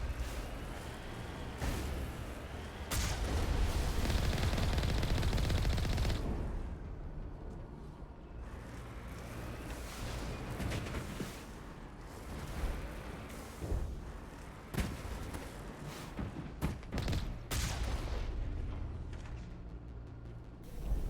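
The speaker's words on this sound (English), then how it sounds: "Yep, got some shooting at us." Gunfire from Geth on the Skyway in Mass Effect 1 Legendary: irregular sharp cracks and bursts over a heavy rumbling battle background, loud at first and then scattered, with no voices.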